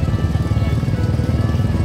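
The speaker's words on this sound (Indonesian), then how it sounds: "sekarang saatnya untuk menceglekan motor" A motorcycle engine putters close and loud with a fast, even low-pitched pulse, heard on a road during a mujahadah kubro procession in Demak, Indonesia.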